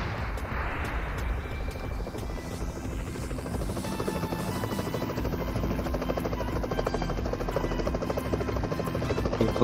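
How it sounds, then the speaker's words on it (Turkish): A helicopter lands in a heavy-weapons shooter video game, its rotor thudding in a loud, steady, continuous drone that holds for the whole stretch with no voices. "Helikopter indi."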